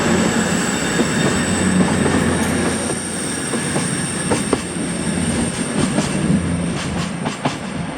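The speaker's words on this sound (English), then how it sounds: "the first train was 1V68, the 1529 cross-country service to Plymouth from Edinburgh." A cross-country passenger service from Edinburgh to Plymouth passes through Dunbar station, a loud steady rumble of wheels and carriages with high squealing tones and scattered rail clicks throughout.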